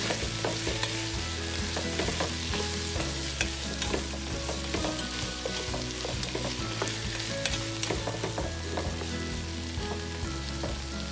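Sipo egg mixture with mixed vegetables is stirred in a frying pan, with a constant close sizzle and repeated scraping, clinking strokes of a utensil against the pan throughout, with no talking.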